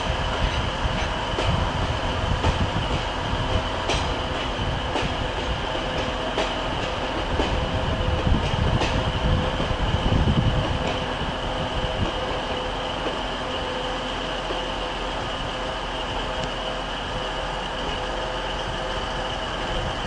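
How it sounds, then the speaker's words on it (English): Class 142 Pacer trains at Manchester Piccadilly rumble and clatter close by, with rhythmic wheel clicks over the joints and a steady engine drone that eases toward the end. "Pacer trains still haunting the network."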